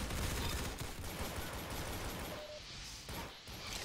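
A dense fusillade of gunfire in the Roblox shooter Arsenal crackles in rapid, rattling bursts at moderate distance, thinning out briefly near the end before resuming.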